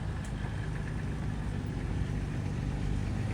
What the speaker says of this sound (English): The forward control Land Rover now just coming past.